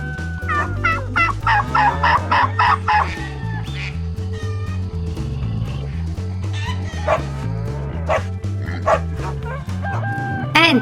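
A turkey gobbles repeatedly in quick, bubbling bursts, loud and close, over a steady low rhythmic background.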